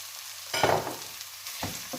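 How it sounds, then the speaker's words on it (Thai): Minced pork hitting a hot pan of chili for Thai holy basil pork, a sudden loud sizzle and stir-fry scrape that settles into steady frying, with a second stirring burst near the end. "พริกเริ่มหอมแล้วนะคะเราก็จะใส่เนื้อลงไปเลยค่ะ"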